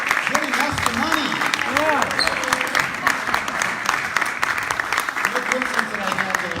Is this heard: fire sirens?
no